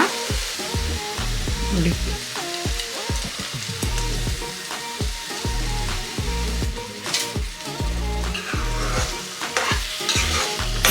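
Pumpkin halwa with fried dry fruits is stirred steadily in a pan over low heat, a loud continuous sizzle broken by repeated scraping strokes, with a brief spoken word.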